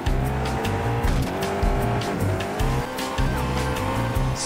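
Bugatti Chiron in an Asphalt 9 multiplayer race, engine roaring loud and steady with tire squeal and skidding layered over the drone, rising and falling through gear changes.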